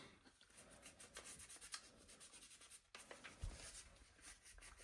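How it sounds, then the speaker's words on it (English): Quiet, close rubbing and scrubbing of cloth over the hammer of a SIG Spear LT rifle during cleaning, irregular strokes in quick succession with a brief pause midway. "Wipe the hammer down."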